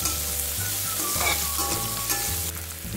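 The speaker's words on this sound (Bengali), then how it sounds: "এবার করলাগুলোকে ভালো করে ভেজে নিচ্ছি।" Pieces of bitter gourd fry in hot oil, seasoned with salt and a little turmeric, giving a steady close sizzle with faint stirring clinks throughout.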